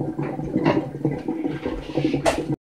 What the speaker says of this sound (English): we turn the tap on and just give it all a little rinse